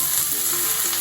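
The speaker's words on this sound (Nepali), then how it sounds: "ट्याक्कसँगले ढिलो नगरिकन तातेपछि प्याज हाल्नुहोस्" Chopped onion sizzles loudly and steadily as it hits a hot pan, with a dense close hiss and no speech.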